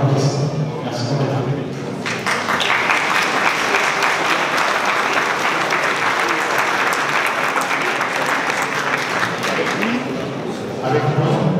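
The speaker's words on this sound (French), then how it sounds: "Je voudrais qu'on l'applaudisse." Loud, sustained applause from the audience at a gendarmerie student graduation ceremony, starting after a brief pause and holding strong for several seconds before tapering, with voices at the edges.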